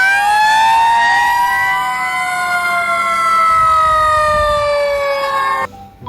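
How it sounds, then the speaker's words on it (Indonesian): A fire truck siren wails loud and close, its rising and falling tones sweeping continuously for several seconds before cutting off abruptly near the end. "Nah, ada truk pemadam kebakaran nih"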